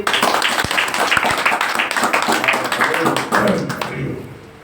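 An audience at a Christmas worship gathering claps together in a loud burst that thins out and fades over a few seconds, with some voices mixed in.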